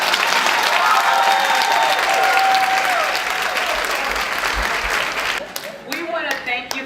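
Applause from an audience at a fashion contest fills the room with dense, steady clapping that thins out toward the end, where a voice and a few scattered claps break through.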